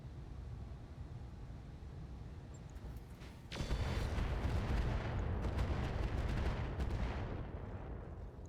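Heavy weapon fire from a mech battle video game, aimed at a Hunchback mech: a low rumble gives way to a sudden loud burst of gunfire and blasts that keeps going for several seconds, then tapers slightly.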